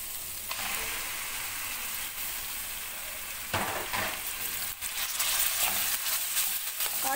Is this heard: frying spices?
yes